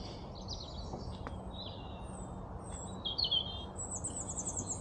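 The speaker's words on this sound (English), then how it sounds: "There's a little bird all happy up in the trees, happy that the sun's come out." A small bird sings high up in the trees of Mayfield Park, Southampton, with faint chirps and short trilling phrases spread across a quiet, distant background.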